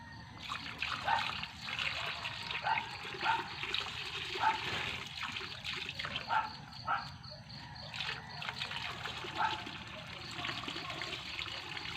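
Water trickles and splashes steadily as it is poured out for pet rabbits, a continuous liquid dribble with small irregular spatters close by, with no talking.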